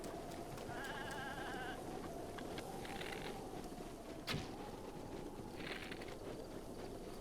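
A goat in Zelda: Breath of the Wild gives a couple of short bleats over quiet game ambience, with a sharp thud partway through and soft footsteps between.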